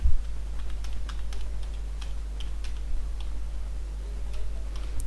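Computer keyboard typing while joining a PC to a Server 2016 domain, with sparse individual key clicks scattered over a steady low electrical hum, moderately near and without speech.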